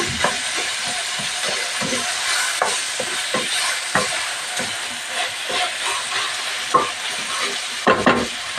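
Chopped tomatoes frying in a pan for a Turkish okra stew, giving a steady loud sizzle and hiss broken by repeated scraping clicks of a spoon stirring.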